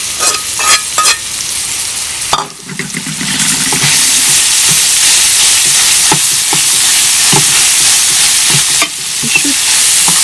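Onion and garlic fry in a hot pan with a loud, continuous close sizzle, broken by scraping stirs and clinks of the utensil against the pan.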